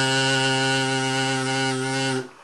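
A kazoo imitating a vuvuzela blows one loud, steady, buzzing drone for about two seconds before cutting off abruptly.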